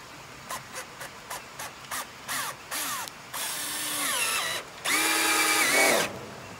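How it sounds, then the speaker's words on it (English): A power drill drives screws into a trellis: a run of short, rising whirs in quick succession, then two longer sustained runs of the motor, close and fairly loud. "I'm gonna get some more screws in there, make sure everything is good."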